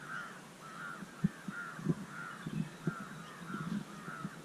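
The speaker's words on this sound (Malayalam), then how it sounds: "കിളിയുടെ സൗണ്ടും" Crows caw repeatedly in a steady series of calls nearby by a roadside near a river, over faint background noise.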